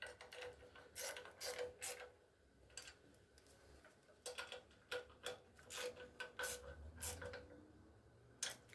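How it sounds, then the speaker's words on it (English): A ratchet snugging intake manifold nuts on a VW Super Beetle 1600cc dual-port engine, with repeated short bursts of quick clicking pawl ticks, close and fairly quiet, separated by brief pauses. "Okay, I'm just going to snug them up for now."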